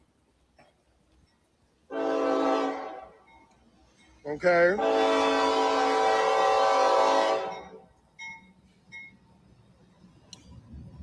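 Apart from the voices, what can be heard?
train passing with train horn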